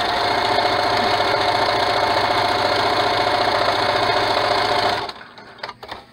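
A sewing machine runs fast and steady while stitching a child's cloth mask, a loud continuous mechanical whir that stops abruptly near the end, followed by a few faint handling clicks.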